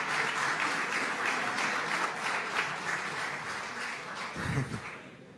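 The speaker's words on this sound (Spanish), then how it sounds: "Quitaron el tiempo los aplausos." Applause in a Sonora legislative session, a continuous wash of many hands clapping throughout, gradually easing toward the end with a brief low thump near the close.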